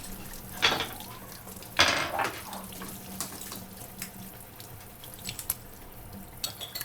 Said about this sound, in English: I would love some help washing the dishes.